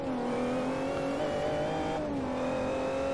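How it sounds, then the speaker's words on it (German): A race car in Forza 4 revs hard under acceleration, a loud continuous engine whine that holds steady, briefly dips around a gear change, then climbs again, with no voices. "hier noch ordentlich Gas gegeben"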